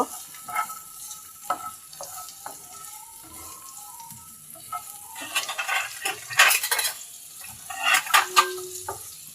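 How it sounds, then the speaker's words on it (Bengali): Onion, garlic and green chili frying in a pan, soft sizzling with repeated scrapes and clinks of a metal spatula, growing busier toward the end, close and without talk. "এবারে আমি পেঁয়াজ রসুনটাকে সুন্দর করে ভেজে নেব।"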